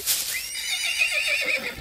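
A horse neighs in an animated folk tale, a loud, close whinny that trembles and falls in pitch, heard alone without talking.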